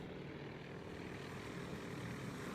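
Propeller engines of WWII carrier aircraft drone steadily while planes land back aboard a carrier in the naval strategy game Task Force Admiral, a continuous, even airplane hum with no talk.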